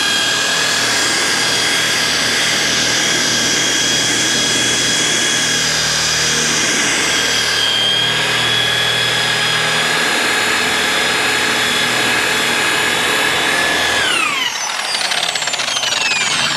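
Machine polisher running on car paint, a steady loud high whine with dense broadband hum throughout, its pitch dropping sharply near the end as the machine winds down.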